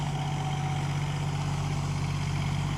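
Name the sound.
tractor ploughing a paddy field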